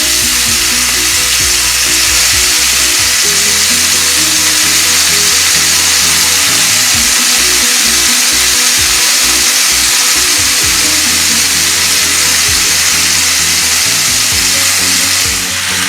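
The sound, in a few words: prawns shallow frying in ghee in a pan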